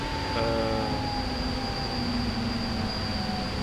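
A train in the SimRail railway simulator rolls to a stop with a steady rumble and long, drawn-out squeals from the wheels and brakes. The sound is continuous and fairly loud, with no talk over it.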